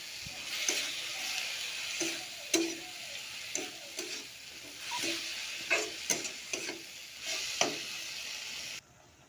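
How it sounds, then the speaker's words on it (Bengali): Spinach sautéing with salt in a pan gives a soft sizzle while a spatula scrapes and taps the pan in irregular strokes, close and fairly quiet, with no voices. "এখন শাকগুলো ভালোভাবে কষিয়ে নেব।"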